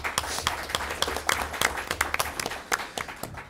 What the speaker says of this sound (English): And a round of applause for our panelists today.